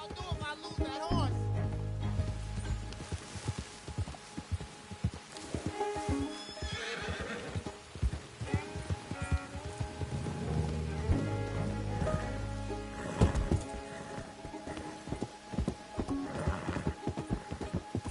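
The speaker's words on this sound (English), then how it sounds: "I don't know what I'll do if I lose that horse." A horse in the video game Red Dead Redemption II whinnies and neighs loudly, with clip-clopping hooves, a soft patter like rain, and someone speaking calmly to the animal between the calls.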